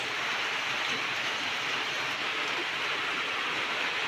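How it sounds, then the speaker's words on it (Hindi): Heavy rain pours steadily outside in a broad, unbroken hiss that holds at one level throughout, with no voices over it. "बारिश इतनी तेज लगी है आपको आवाज सुनाई दे ही रही होगी"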